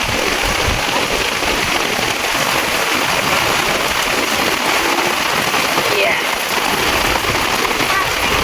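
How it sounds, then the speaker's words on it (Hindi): Heavy rain pours down steadily outside a home, a loud, dense, continuous hiss of drops hitting surfaces, with voices talking faintly underneath. "बारिश अपने पूरे चरम रूप पे है"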